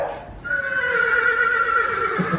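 A mare whinnies loudly and close by, a long wavering neigh that holds steady for about two seconds after a brief quiet start.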